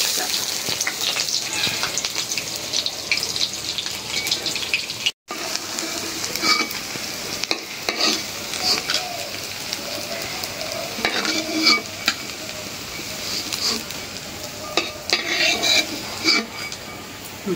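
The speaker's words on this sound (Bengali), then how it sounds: "ভাজা হয়ে গেল বক ফুলের বড়া" Batter fritters of Sesbania (bok) flowers fry in hot oil with a constant crackling sizzle, broken by a brief silent gap and by utensil stirs and clinks in the pan, close up.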